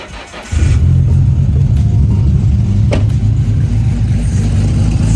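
An RB26 engine fitted with a big single top-mount turbo and a Nismo intake fires up after a brief crank and settles into a loud, rumbling, lumpy idle with a few revs, close by.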